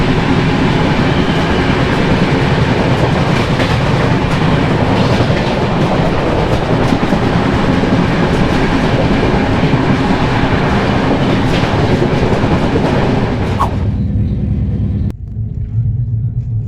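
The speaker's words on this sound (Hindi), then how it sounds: "स्पीड कम हो चुकी है दोस्तों ट्रेन की, मतलब कि कोई स्टेशन आने वाला है।" The Vasco Jasidih Express, a passenger train, rolls on rails with a loud, continuous rumble and clatter heard from onboard, then drops abruptly to a quieter hum near the end.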